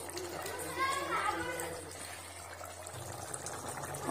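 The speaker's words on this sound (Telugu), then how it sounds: "ఓకే ఉడుకుతుంది కదా ఇంకా జస్ట్ లైట్ వాటర్ అంతా ఇంకిపోయినంతసేపు ఉడకబెట్టాలి" Quiet bubbling of an Andhra-style mutton curry simmering steadily in a pot, with faint voices chattering in the background.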